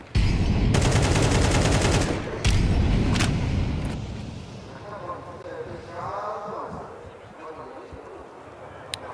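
Rapid automatic rifle fire from a Counter-Strike 2 match at a major tournament, loud sustained bursts in the first few seconds, then fading into background game noise while commentators talk.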